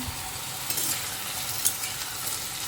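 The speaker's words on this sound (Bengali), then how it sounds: "তো এই যে রান্না বান্না হচ্ছে এখন।" Food cooking in a pan at home, a continuous soft sizzle with light stirring, close and fairly even, with no one talking.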